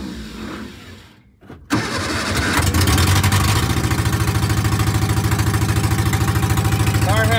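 A 1961 Austin Healey Sprite kept in a cold garage below 40°F cranks briefly, catches, then settles into a loud, steady, pulsing idle up close.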